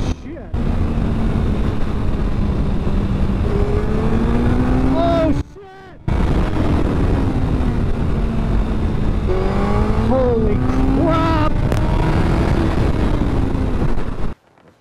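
A 2021 Suzuki Hayabusa Gen 3 motorcycle riding fast, its engine roaring loud and close with rising, sweeping pitch through repeated gear changes and heavy wind rush, dropping out briefly mid-ride before surging again.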